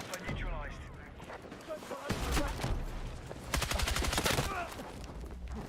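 Hip-fired automatic gunfire in an online shooter game, sputtering bursts of rapid shots, loudest in the second half, under a player talking.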